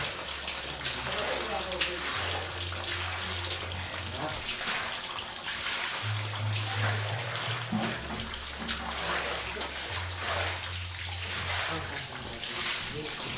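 Water runs steadily off a concrete floor and walls being soaked before pouring in an old shed, a continuous splashing trickle heard faintly beneath intermittent low hum and people talking.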